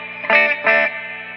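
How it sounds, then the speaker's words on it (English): Marshall JTM60 guitar amp with reverb turned up heavily: a sustained distorted chord with two strummed accents washing into a lingering reverberant tail, loud and close. "Reverb is a bit much."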